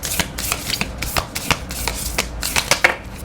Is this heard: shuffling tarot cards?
yes